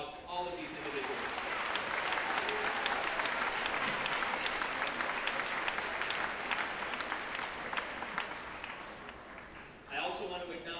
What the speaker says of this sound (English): How about a nice round of applause to all of these individuals?